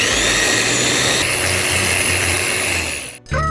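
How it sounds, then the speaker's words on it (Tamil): A power drill runs loud and close, boring into a wooden wall frame with a steady high whine that briefly cuts out near the end before starting again. "இங்கே ஒரு ட்ரில் பண்ண போகிறேன்."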